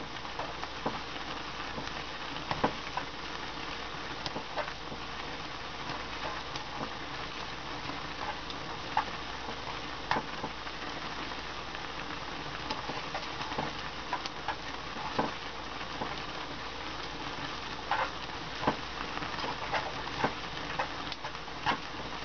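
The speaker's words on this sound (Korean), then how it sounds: "파스타나 음식이 밑바닥에 붙지 않게 잘 저어주는 게 중요하죠" Milk pasta is stirred in a pan over high heat, a continuous sizzle and bubbling with frequent small scraping ticks from the utensil, close and steady throughout with no talking.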